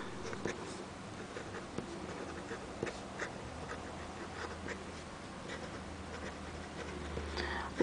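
A Baoer 388 fountain pen writing on paper, its nib scratching softly in faint, close strokes and tiny ticks at an irregular pace, with no one speaking.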